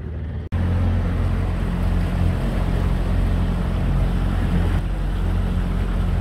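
A motorboat cruising across the Great Sacandaga Lake, a steady low engine drone with water and hull rush, close and constant throughout without speech.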